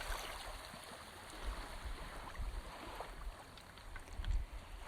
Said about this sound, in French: Vous entendez le clapotis des vagues qui vous entourent, le bruit des cailloux sur le sable.